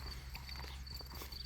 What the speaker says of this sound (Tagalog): Kabayo na sila.